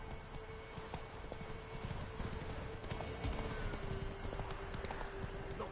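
Roach the horse gallops in The Witcher 3, a fast, steady clip-clop of hooves close by over a continuous ambient bed, with a faint whinny.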